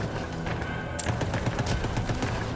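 SMG fire in Borderlands 3, a rapid, dense stream of loud shots with a sharp, brighter burst about a second in and continuous firing after.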